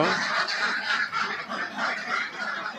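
Dense, continuous quacking of many ducks on a duck farm calling over one another, a busy flock close by with no pauses and no talking.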